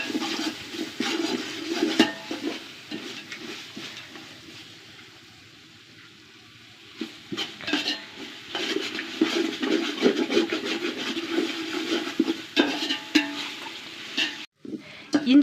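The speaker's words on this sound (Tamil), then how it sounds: "அதையும் சேர்த்து நல்லா அதோட பச்சை ஸ்மெல் போகிற அளவுக்கு நல்லா வதக்கணும்" Ginger garlic paste sautés in a pan for beef biryani, with a steady sizzle and frequent scraping and stirring of a spoon against the pan. The sizzle dies down briefly midway, then picks up again.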